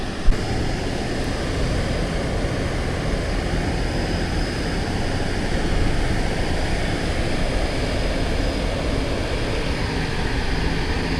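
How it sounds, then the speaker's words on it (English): Choppy river waves from the wake of the towboat Janet Elaine slap against a kayak on the Missouri River near Hermann, a steady broadband wash and churn that stays loud and constant with engine rumble mixed in. "Got some good waves coming out the back"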